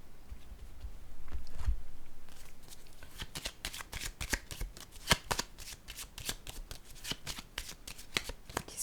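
Fortune-telling cards are shuffled and laid down close by, with a brief rustle followed by a rapid string of crisp snapping flicks, fairly faint and uneven in rhythm.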